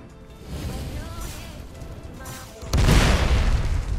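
A burst explosion from an attack in the Anime World Tower Defense game, a loud broadband boom hitting late and sustained over steady game noise, with a voice talking earlier in the clip.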